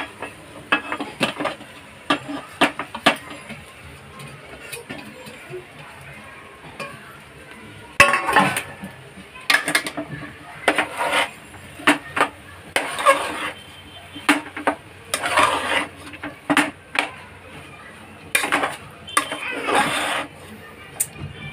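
Cooked rice being stir-fried for egg fried rice in a pan, with repeated clinks and scrapes of a spatula against the metal arriving in irregular bursts, close and fairly loud.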